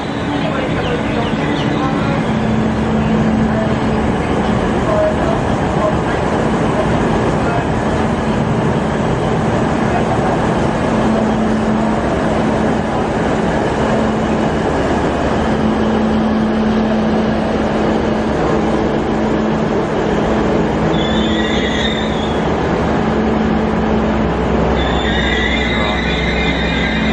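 A train rolls into Newcastle Interchange station in the Sydney region, a steady loud rumble with a sustained low hum throughout and brief higher-pitched squeals near the end.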